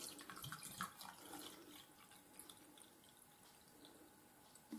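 Water pouring into a glass from a tap, a faint, splashy trickle with small bursts and drips, quiet and close, running for a few seconds alone.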